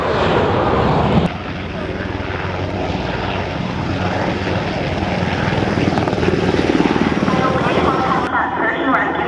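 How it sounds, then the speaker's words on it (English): Steady, loud rotor and engine roar of a U.S. Navy search and rescue helicopter, continuous throughout, with a brief change in tone near the start and a voice faintly underneath. "search and rescue helicopter"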